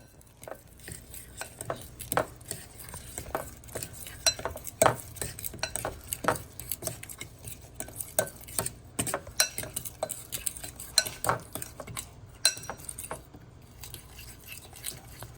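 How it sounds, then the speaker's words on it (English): A spoon stirs a sauce in a bowl after three tablespoons of sesame oil are added, giving a steady run of quiet, close scrapes and soft clinks that repeat irregularly throughout with no talking. "Adding 3 tablespoons of sesame oil. Mix everything together."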